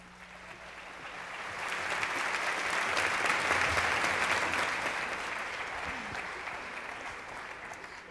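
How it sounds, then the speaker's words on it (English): Audience applause for the hosts at the 20th annual EVVY Awards, a dense, sustained wash of clapping that swells to a peak midway and then slowly tapers, heard alone without talk. "A round of applause for your hosts."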